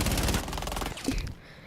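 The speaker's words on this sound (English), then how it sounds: "we're gonna see the SMG-12 for Dokkaebi, the recoil for this SMG, and the recoil for that SMG" SMG-12 submachine gun in Rainbow Six Siege firing a rapid, dense automatic burst for about a second, close and loud, then cutting off into a short fading tail.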